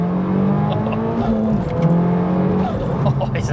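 Turbocharged MK1 Audi TT quattro accelerating hard from first gear, a loud, strained engine note climbing steadily with a gear change midway and rising again, with people talking over it.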